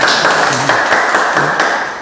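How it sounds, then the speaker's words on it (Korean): Audience at a lecture on classical poetry claps in a brisk burst, a cluster of sharp hand claps close by, thinning out toward the end. "박수 치라고 확실히 치세요."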